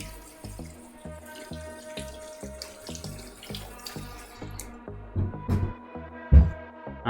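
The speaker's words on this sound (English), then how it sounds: "So I'm just washing these tatties" Potatoes are washed under a running kitchen tap, with a steady stream of water splashing and knocking against them in the sink, growing louder and more splashy toward the end.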